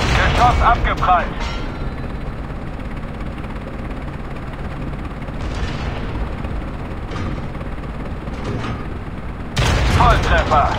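Tank cannon fire in the video game Tank Company from a Leopard PTA. Heavy booming shots and impacts sound over a continuous rumbling battle din, with louder bursts near the start and end and an in-game German voice announcing hits.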